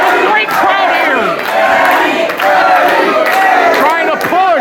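Wrestling crowd cheering, whooping and chanting in support of a champion fighting on, loud and continuous with overlapping shouts and rising cries throughout.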